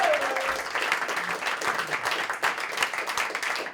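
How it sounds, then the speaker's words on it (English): Audience applause at a cabaret show brunch venue, a full steady patter of many hands clapping with slight swells, continuing without pause. "please give them a big round of applause."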